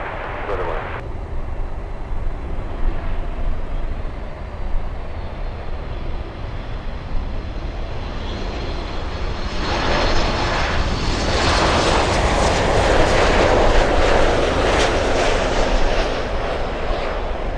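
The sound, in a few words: airplane landing at Miami International Airport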